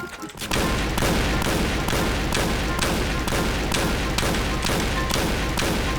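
Rapid bursts of gunfire from the online shooter Point Blank, loud and steady, with about eleven evenly spaced shots after a brief opening.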